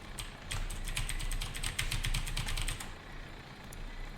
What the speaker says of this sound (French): Est-ce que t'entends encore le clavier? Tape.